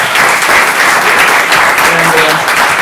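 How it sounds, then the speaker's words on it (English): Loud, dense applause from an audience at an evening talk event about Michael Dukakis's presidential run, continuous and even throughout, with a faint voice surfacing briefly under the clapping. "can we have another round of applause for this young man?"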